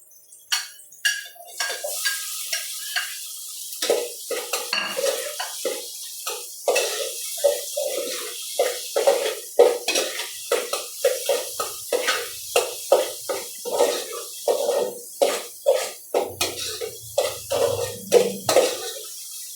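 Tomatoes sautéing in a pan for a sardine and miswa noodle dish, with steady sizzling and repeated scraping stirs of a utensil against the pan, close and continuous.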